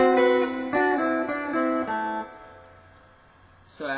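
Guitar solo picked in double-note phrases: a few paired notes plucked in a steady rhythm, ringing out and decaying, close and clear, then a brief noise near the end.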